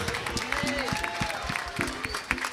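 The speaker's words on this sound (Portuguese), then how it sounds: "Aplauda o Senhor" A church congregation claps in praise during a worship service, a steady round of crowd applause heard under voices and singing tones.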